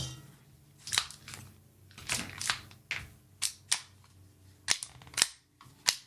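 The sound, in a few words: magazine pulled from Staccato 2011 CS pistol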